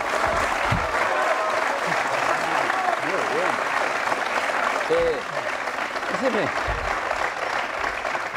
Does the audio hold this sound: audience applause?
yes